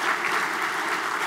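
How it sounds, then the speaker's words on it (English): Brief, even applause from a luncheon audience at a leadership event honoring sponsors, a continuous wash of many hands clapping at moderate, fairly distant level. "I think you all should give them a round of applause"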